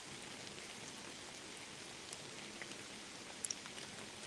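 Rain falls steadily at Culp's Hill on the Gettysburg battlefield, a soft continuous patter with a few sharper drops landing close by near the end.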